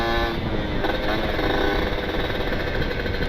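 Kawasaki Ninja two-stroke motorcycle with a carburetor being ridden, its engine giving a steady, loud, rough buzzing drone that continues without break at close range.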